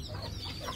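Chickens clucking and squawking close by, including a Buff Orpington hen and a white Silkie rooster, a busy continuous flock chatter with overlapping calls.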